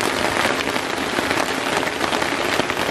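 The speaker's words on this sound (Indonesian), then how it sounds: "Cuman ini hujannya, aduh, lihat tuh sana, luar biasa coy." Heavy rain pours down steadily, a dense, loud, unbroken hiss of drops hitting surfaces close by with no voices.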